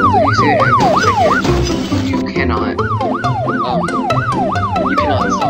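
An ambulance siren in the Traffic Mania video game wails in a fast rising and falling cycle, loud and repeating, broken briefly by a burst of other game noise before resuming over a pulsing electronic soundtrack.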